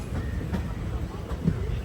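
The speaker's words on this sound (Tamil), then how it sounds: "இப்போ பார்த்தீங்கன்னா ஷொர்னூர் ரயில்வே ஸ்டேஷன் வந்து நம்ம வர்ற ட்ரெயின் வந்து ரீச் ஆகிட்டுருக்கு" A train pulling into Shornur railway station in Kerala, a steady low rumble of wheels and cars running close by, with faint voices over it.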